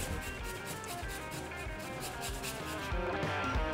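Citrus zest is grated from two fruits for a chestnut-flour cake, a steady close-up scraping and rubbing that continues alone without pause.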